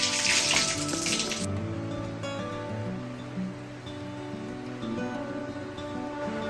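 Tap water running steadily into a sink during tooth brushing, a continuous close splashing stream that is loudest at the start and then settles into a softer flow with no voices.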